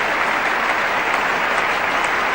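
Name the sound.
cricket crowd applauding the Australian captain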